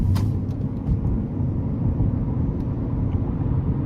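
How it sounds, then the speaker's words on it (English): Steady low engine rumble of a 2013 Ford C-Max Hybrid under light throttle, with a constant broadband road and motor drone and no clear rise in pitch. "We're gonna give it a little throttle here."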